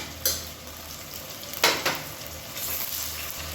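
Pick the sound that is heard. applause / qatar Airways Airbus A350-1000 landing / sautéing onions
sautéing onions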